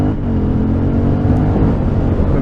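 An Aprilia Shiver 900 motorcycle engine revs with a loud, steady, close-up roar that holds throughout without a break.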